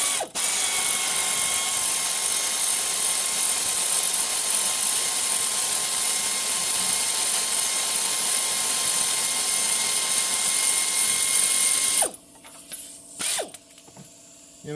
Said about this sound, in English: this air ratchet